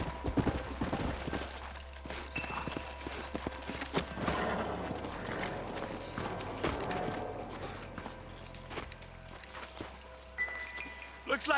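Horses' hooves clip-clop steadily on the ground in the Red Dead Redemption video game, a continuous mid-distance stream of hoofbeats over a busy ambient game soundscape, with no talk over it.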